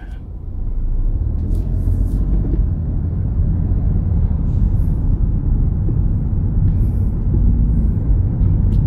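A car moves off after being shifted into gear during a driving test route, heard from inside as a loud, steady low engine and road rumble that holds constant with no talking.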